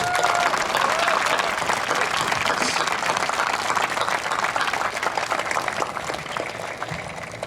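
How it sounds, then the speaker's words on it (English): A large crowd at a Coast Guard Academy commencement ceremony applauds at length, a broad, steady roar of many hands clapping that stays loud throughout and fades slightly at the end. "would you please join me in a round of applause thanking your family, your friends, and our faculty, staff, coaches, and crew"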